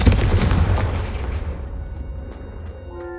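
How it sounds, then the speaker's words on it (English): A Confringo fire spell from Hogwarts Legacy bursts with a loud booming blast at the start, its rumble fading over about three seconds into a quieter tail with faint ringing tones. "Confringo cast travels a bit farther than that of a spell like Incendio"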